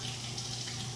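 Tap water runs steadily over an onion being washed under a kitchen faucet, a constant close hissing stream.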